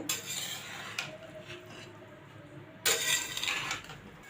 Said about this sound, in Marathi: मिडियम गॅसवर दुधी द चार ते पाच मिनिट चांगली परतून घ्यायचे